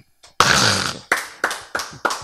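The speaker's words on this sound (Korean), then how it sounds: "박수." Audience clapping during a Bible lecture: one sustained burst of applause followed by four sharp, evenly spaced unison claps, loud and close, with no speech over it.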